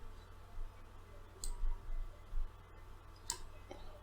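A computer mouse clicks a handful of times in a quiet room, soft sharp ticks with gaps between them.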